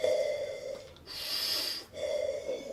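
Darth Vader's mechanical respirator breathing, two slow rhythmic cycles of hissing, wheezy inhale and exhale, close and clear with no talk over it.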